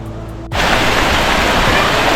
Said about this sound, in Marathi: इथे त्या मंदिराच्या पाठीमागून अजून एक ओढा वाहतोय